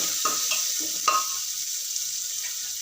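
Onion frying in oil for vagareli khichdi gives a steady hiss, broken by a few brief stirring scrapes and a light clink near the start.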